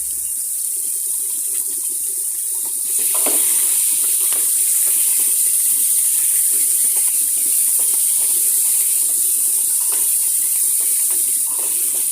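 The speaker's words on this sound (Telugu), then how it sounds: "సన్నగా తరిగిన ఆనియన్స్ కూడా వేసుకోవాలి ఇవి కొంచెం గో గోల్డెన్ కలర్ వచ్చే వరకు వేయించుకోవాలి" Thinly sliced onions fry in oil with cardamom and shahjeera until golden for a dhaba-style paneer masala curry, giving a loud, steady, close hiss that thickens partway through.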